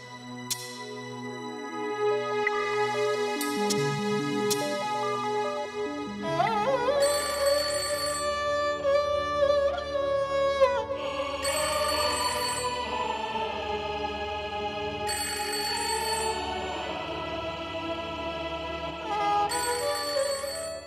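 A telephone rings with a bright, melodic electronic tone that repeats steadily for about twenty seconds, with no voices.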